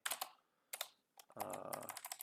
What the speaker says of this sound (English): I'm typing all this in Microsoft Word